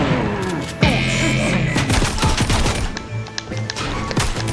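Fortnite video game gunfire as a character is shot, a rapid volley of sharp gunshots and bursts, loud and close, continuing across several seconds with no talking.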